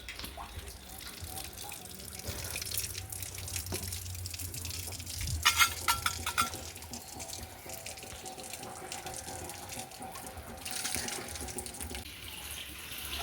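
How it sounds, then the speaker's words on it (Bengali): Water runs steadily into an iron filter tank through the bottom inlet pipe, a continuous close flow with a few louder splashy moments midway; faint speech murmurs underneath. "নিচ দিয়ে এখন জলটা ঢুকছে পরিষ্কারের সময় আপনার জলটা সব সময়ের জন্য নিচে দিয়েই ঢুকাতে হবে"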